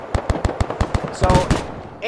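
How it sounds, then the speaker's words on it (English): A heavy machine gun turret fires in the Arma 3 military game, a loud, close, rhythmic burst of about ten evenly spaced shots, followed by further game noise near the end. "HMG turret instead engages him, he quickly pulls back."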